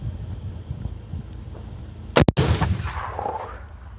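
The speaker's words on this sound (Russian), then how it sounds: "Да, в бочку стреляй." A single sharp gunshot fired at a barrel on a shooting range, loud and close, followed by a brief echoing tail over quiet outdoor background.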